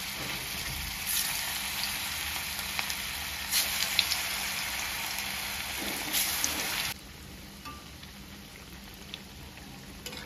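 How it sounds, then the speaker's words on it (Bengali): Muitha dumplings dropped one by one into hot oil sizzle in a steady, dense hiss with crackly pops, fairly loud for about seven seconds before the frying drops to a softer, quieter sizzle. "তেলও গরম হয়ে গেছে, একটা একটা করে মুইঠা আমি ছেড়ে দিলাম"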